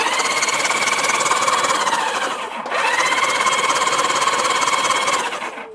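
An old Honda Goldwing motorcycle engine cranks over on the starter, a steady whirring churn with a rhythmic pulse, pausing briefly midway before cranking again, close and loud.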